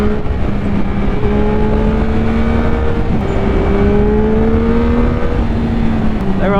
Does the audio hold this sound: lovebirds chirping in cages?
no